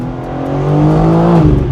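A 2025 BMW M4 Competition Convertible engine revs after a downshift, a loud close droning roar that rises slightly in pitch and then drops off at the end, with no talk over it.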